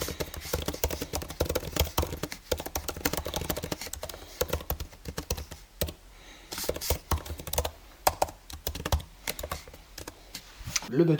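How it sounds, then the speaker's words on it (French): Rapid typing on the Apple Magic Keyboard of a MacBook Air M1 laptop, a dense run of soft, close key clicks with brief pauses throughout. "Allez, on commence, le Magic Keyboard."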